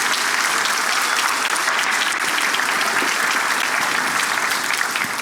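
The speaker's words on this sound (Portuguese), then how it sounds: "Vamos aplaudir a Cristo na vida desses casais?" Church congregation applauding during a service, dense, even clapping from many hands heard alone throughout.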